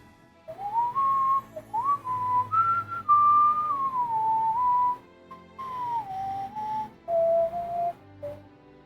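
A person whistles a tune from the Bravely Default video game, a clear, close melody in sustained and bending notes with short pauses between phrases, alone and with no talking.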